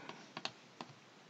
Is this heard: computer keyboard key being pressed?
yes